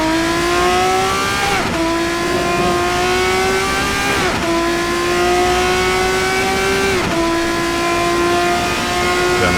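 A race car from the RSS 3 mod in Assetto Corsa accelerates hard down a straight, its loud engine rising in pitch and then dropping sharply with each of three upshifts, close and steady with no talk.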